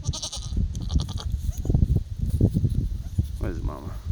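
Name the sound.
newborn goat kids and mother goat bleating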